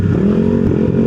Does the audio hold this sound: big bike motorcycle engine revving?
yes